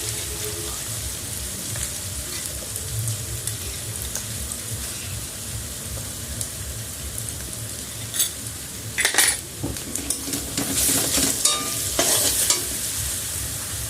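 Onions with turmeric powder frying in a pan, an even close sizzle with intermittent utensil scrapes and metallic taps against the pan, busier stirring near the end.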